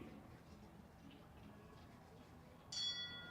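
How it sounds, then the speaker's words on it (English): A bell rings near the end to start a 1.30m show jumping speed round, a single bright, clear ding that rings on briefly over quiet arena ambience. "The bell sounds for the proper 12 entry."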